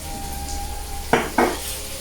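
Chicken pieces frying in a pan with salt and turmeric, a low background sizzle, then two sharp utensil scrapes against the pan in quick succession.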